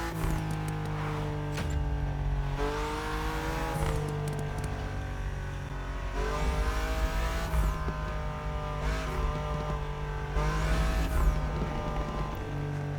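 A BMW M4 sports car engine in The Crew Motorfest video game roars through repeated rising revs and gear changes, with crackling exhaust pops between pulls.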